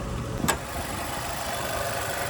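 A 2013 Nissan Juke SL AWD with a 1.6-liter turbocharged four-cylinder idles steadily, a low even hum heard alone after a brief click at the start.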